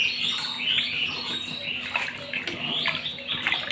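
Potato chips parboiling in a pot of water while being stirred, a continuous close watery churning and sloshing with light clinks of a utensil and no talking.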